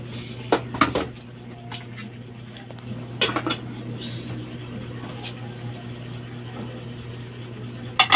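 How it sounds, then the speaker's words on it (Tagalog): Metal ladle and pot lid clatter at home while rice is covered and a dish is served from the pot: a few sharp clinks and scrapes in bursts, close by, over a steady low hum. "Takpan natin ang kanin at magsasandok tayo ng ulamers."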